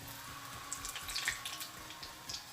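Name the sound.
frying madura seva pieces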